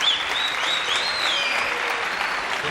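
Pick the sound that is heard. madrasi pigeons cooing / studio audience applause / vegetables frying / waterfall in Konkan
studio audience applause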